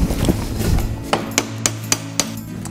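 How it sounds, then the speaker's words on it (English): Hammer taps drive a bolt through a part of a poly glider chair during assembly, five sharp, evenly spaced metallic knocks following a low rumbling start, close and fairly loud. "you'll use the hammer again to push that through."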